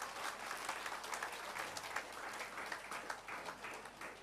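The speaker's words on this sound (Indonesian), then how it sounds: "Beri tepuk tangan buat Tuhan." A church congregation applauds during a Pentecostal anniversary service, steady dense clapping from many hands filling the room throughout.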